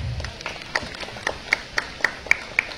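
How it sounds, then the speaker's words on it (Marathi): Wedding guests in Vasai clap for the bride, a thin scatter of separate hand claps in a loose, fairly regular rhythm, soft and slightly distant, with no voices over them. "आपण सर्वजण तिच्यासाठी जोरदार टाळ्या वाजवूया"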